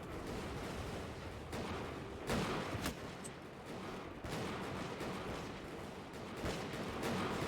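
Musket volleys crackle in the Bannerlord Europe 1700 battle game, with rolling, distant-sounding fusillades and bursts of gunfire over a constant battle din.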